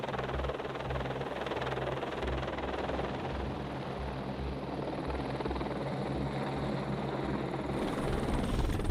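A rescue helicopter flying a long-line rescue near Ama Dablam base camp drones with continuous rotor thumping and engine whine, holding steady and fairly distant throughout.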